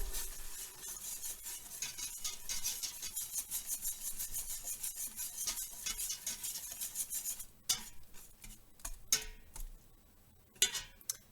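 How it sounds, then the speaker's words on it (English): A whisk scraping and rubbing through cookie batter as salt and vanilla extract are mixed in, a quick rhythmic scratching that carries on for several seconds, then breaks into slower separate strokes. "I'm going to have my salt and my vanilla extract that I've already pre-measured out. And I'm going to whisk that in."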